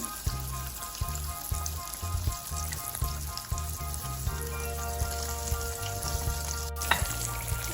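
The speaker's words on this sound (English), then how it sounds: "tomatoes been frying about 3 minutes." Steady sizzling and crackling of green tomatoes frying in a hot pan, continuous and close, with no voices.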